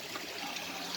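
A river runs over large rocks, giving a steady, even rushing and trickling hiss that sounds faint and continuous, with no voices over it.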